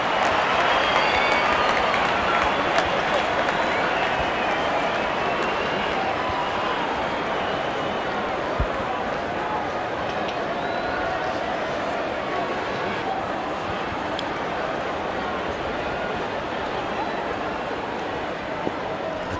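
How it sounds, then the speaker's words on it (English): A cricket stadium crowd applauds and cheers in a dense, unbroken roar that stays loud and even for the full stretch, with no speech over it. "The crowd is enjoying every bit of this action."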